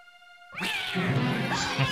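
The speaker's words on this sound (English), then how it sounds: "A cat jumping out of nowhere." A cat in the Phantasmagoria horror game lets out a loud, drawn-out yowling meow that cuts in abruptly after a soft sustained tone, close and harsh for a couple of seconds.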